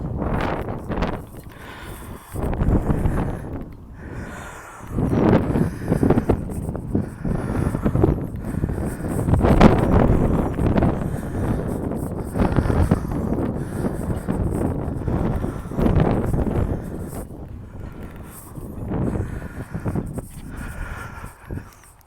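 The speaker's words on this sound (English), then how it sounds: "And it's windy," Gusts of wind buffeting the microphone on an outdoor coastal walk, rising and falling in loud rumbling bursts across the whole stretch, with no talk.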